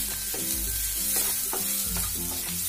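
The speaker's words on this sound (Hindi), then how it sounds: "अब इसके अंदर मैं अदरक और ये लहसुन का पेस्ट डाल रही हूँ और इसको अच्छे से मिक्स करूंगी" Ginger and garlic paste is stirred into onions already frying in a pan, producing a loud, continuous sizzle with rhythmic scraping strokes of the spoon every half second or so.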